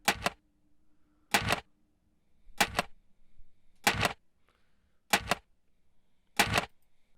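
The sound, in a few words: aluminum can thrown into recycling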